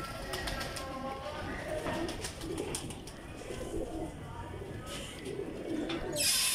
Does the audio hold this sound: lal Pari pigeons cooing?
yes